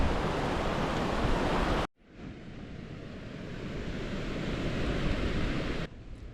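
Steady surf and wind roar on the Taiwan coast on a humid, windy spring day, a broad, fairly soft wash of noise that briefly drops out once before resuming, with no voices.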